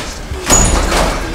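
A loose door slams shut indoors with a single sharp, loud thud midway, followed by a brief rattling settle.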